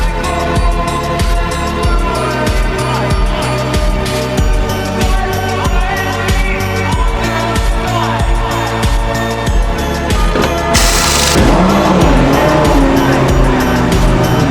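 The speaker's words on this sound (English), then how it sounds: "To jump into a GT car and race, it's a different feeling" A GT race car at the 24 Hours of Dubai roars loudly and continuously, its engine note rising and dropping through rapid gear changes, with a brief burst of tire squeal or skidding near the end.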